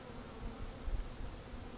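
Honey bees from a caught swarm buzz in a dense, continuous drone, fairly quiet and steady, with no voices over it.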